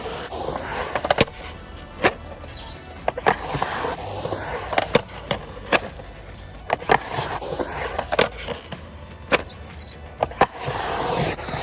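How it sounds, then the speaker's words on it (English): Skateboard rolling around a skate bowl, with loud urethane wheel rumble and repeated sharp clacks and scrapes as the board grinds the coping and drops back into the transition, recurring every second or two. "we're going to approach it and get up on top and grind and then come back into the transition"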